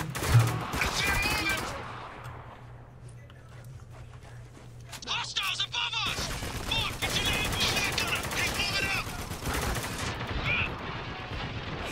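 Bursts of assault rifle fire rattle out in the war shooter Spec Ops: The Line, repeated rapid volleys at close range with fierce battle noise, broken by a quieter stretch and then resuming as dense gunfire, while a voice talks over it.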